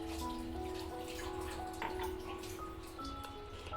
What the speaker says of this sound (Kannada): ನೋಡಿ, ಈ ಥರ ಸ್ವಲ್ಪ ನೀರು ಹಾಕ್ಕೊಂಡೆ ಮಿಕ್ಸ್ ಮಾಡ್ಕೋಬೇಕು.